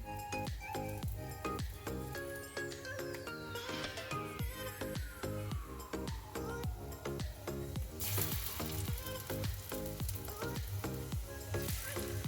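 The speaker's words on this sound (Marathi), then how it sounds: "इकडे मी गॅसवर पॅनमध्ये तेल टाकलेलं आहे आणि त्याच्यामध्ये मी आता या एक एक फ्राय करून घेत आहे" Moong dal batter-dipped bread sticks fry in oil in a pan, making a steady sizzle that stays under continuous, loud background music.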